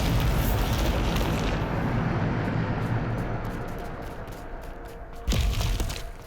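A Bombarda spell explodes in Hogwarts Legacy on Xbox Series X with a loud, dense blast that slowly fades, then a second sharp crack hits near the end.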